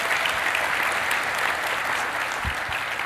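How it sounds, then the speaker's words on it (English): Audience applause at a talk on building community, a steady, even wash of many hands clapping, moderately loud and unbroken throughout. "Can we get a round of applause around actually?"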